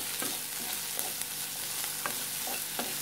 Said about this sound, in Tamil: இப்போ பாரு, வெங்காயம் போட்டு வதக்கியாச்சு பாருங்க.